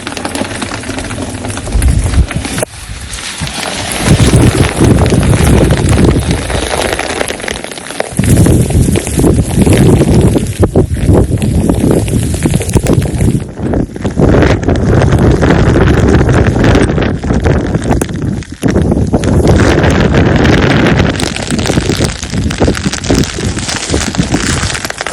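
Cold wind and rain buffet a megalithic dolmen necropolis in the Aurès near Guelma, a loud, continuous roar of gusts hitting the microphone that surges and dips for the whole stretch with no voices.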